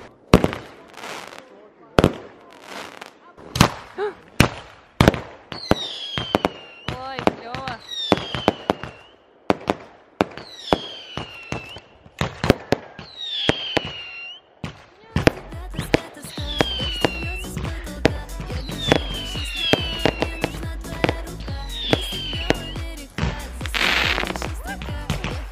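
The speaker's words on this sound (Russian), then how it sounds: "Подготавливайте почву для салюта." Fireworks go off for a 23rd birthday celebration: a long run of sharp bangs and crackles with whistling rockets, growing denser and louder in the second half, heard from a moderate distance.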